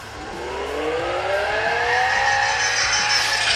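A LEGO Technic Ford Mustang Shelby GT500 drifts, its engine note climbing steadily in pitch and loudness with a squealing tire edge, alone without talk.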